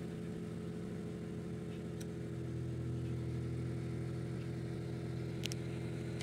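A 1996 Honda Civic LXi engine runs steadily after being started, giving a low, even idle hum that stays faint and unbroken with no revving.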